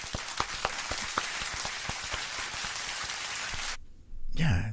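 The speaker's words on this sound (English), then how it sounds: "Can we have a round of applause for me?" Audience applause at a bare-knuckle fight show, dense steady clapping for about four seconds that cuts off abruptly, followed by a brief voice.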